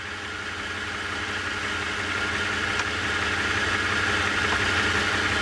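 A Toyota Tundra engine idles with a steady, even hum and faint vibration during a transmission fluid change, running continuously up close without any talking.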